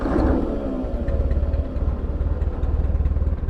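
A Ford 9N tractor engine runs at a steady idle close by, a low, even, fairly loud putter with a faint mechanical clatter over it, holding the same pace the whole time with no voices.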